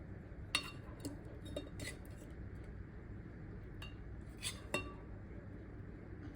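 Quiet clinks of dishes and cutlery as a plate of dal, paneer bhaji, rice and chapati is served at home: a few sharp, scattered clicks over a low, steady background hum.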